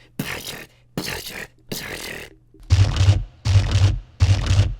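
Vocal beatboxing mimicking a dubstep section, with no effects: three breathy, noisy bursts, then three heavier bursts with a deep wobbling low end, each separated by brief gaps.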